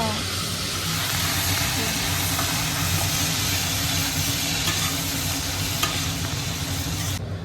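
Soy sauce being stirred through a small amount of sauce in a hot pan for white sauce pasta, with a steady sizzle and scraping strokes running throughout at close range, while a voice talks over it.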